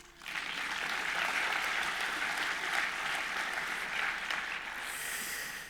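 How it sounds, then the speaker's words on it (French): Audience applause breaks out at a film festival opening ceremony, dense clapping rising quickly and holding steady at moderate volume in a large hall, easing slightly toward the end with no speech. "On peut les applaudir."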